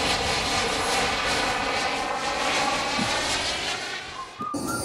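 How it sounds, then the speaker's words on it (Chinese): A remote-control model airplane engine flies overhead with a continuous, buzzing high-pitched whine that stays loud and steady, then dips and shifts briefly near the end. "操控遥控飞机，手眼协调最重要。"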